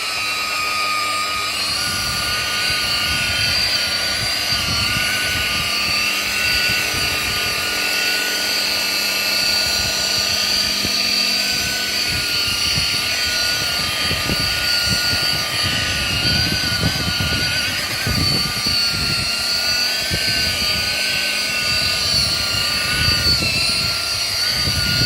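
A rotary polishing machine running at about 1800 rpm spreads a 2-in-1 boat cut and polish compound, giving a steady, close, continuous whine with rich tonal overtones and a low rumbling undertone throughout, with no talking.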